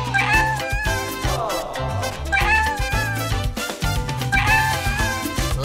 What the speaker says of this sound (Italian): Adoro i gattini.